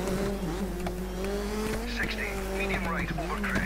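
A rally car races fast across snow in the DiRT 3 video game, its engine droning steadily and shifting pitch as tires squeal and skid, while someone talks over it throughout.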